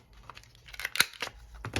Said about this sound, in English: This is how I cut tags down to make them slim,